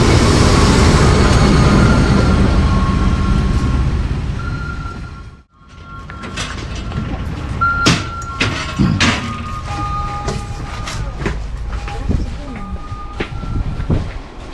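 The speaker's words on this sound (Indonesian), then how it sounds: "Kereta api lokal Walahar ini berangkat awalnya dari stasiun Purwakarta menuju ke stasiun Cikarang." A local economy-class passenger train rumbles loudly past in Indonesia, then quiets; afterward, interior clanks, door thuds and faint voices fill a calmer carriage.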